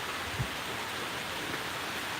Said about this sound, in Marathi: परत मित्रांनो पावसाला सुरुवात झाली